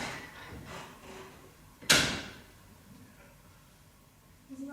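A door moved by the wind bangs once with a sharp, loud, close thud that rings briefly, set in a quiet room with faint voices before and after.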